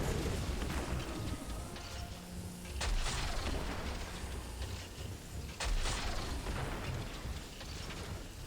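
Two heavy booming grenade blasts in the video game Destiny 2, roughly three seconds apart, each a sharp broadband burst fading out over a busy background of game noise and rumble.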